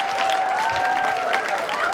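An audience at a comedy show applauds, a dense steady clapping close by for the whole stretch, with a faint voice underneath.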